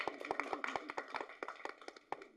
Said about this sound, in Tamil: அட கைதட்டுங்க, என்னங்க அது?